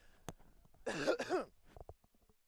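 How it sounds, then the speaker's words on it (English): A single short cough up close into a live-broadcast microphone at a baseball game, with small clicks and rustles before and after. "I got to pull this mic away so I can have a quick cough"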